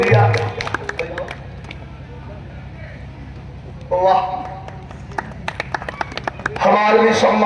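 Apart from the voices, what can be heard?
audience clapping at a live Biraha show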